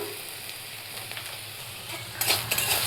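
Soft sizzling of drumstick flowers and vegetables frying with salt and turmeric, a spoon scraping and stirring in a pan, louder clatter near the end.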